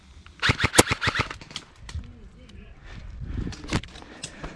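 Airsoft guns fire at a large milsim event, a quick burst of sharp, snappy shots up close followed by scattered single pops, with voices talking and rustling in between.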